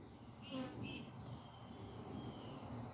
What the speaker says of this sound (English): I've never seen so many bees